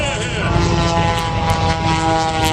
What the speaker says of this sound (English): Oh, the airplane's way ahead.